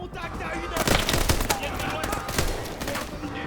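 Rapid submachine gun bursts crackle in a Call of Duty: Advanced Warfare prison firefight, dense volleys of close shots over layered battle noise and a voice.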